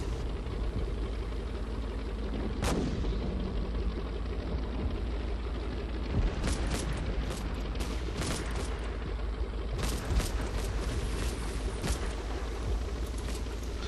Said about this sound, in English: Someone who's not nice is firing a bazooka.